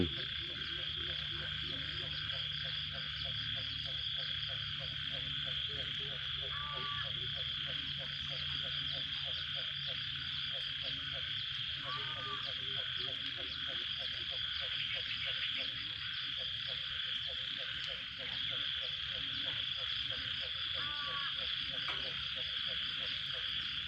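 Frogs croak in a steady, dense chorus with pulsing calls, layered over a constant high insect whine throughout, in rice paddy fields after rain.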